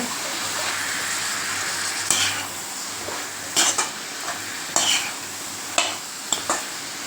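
Brinjal and drumstick stir-fry with chilli powder, salt and turmeric, mixed in a pan: a steady sizzle under repeated scraping and clinking spatula strokes, close and clear.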